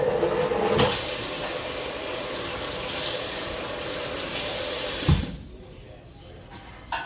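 Water running from a kitchen tap while wetting a filter for iced coffee, a steady close rushing stream that cuts off near the end, with a voice talking at points.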